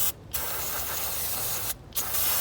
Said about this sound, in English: just going at it with some brake cleaner.